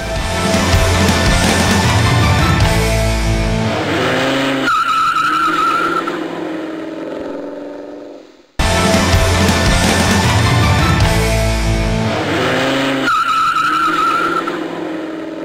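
Loud Toyota MR2 race car engines roaring with squealing tires and skidding at Snetterton, the same burst of motor noise repeating twice, close and dense.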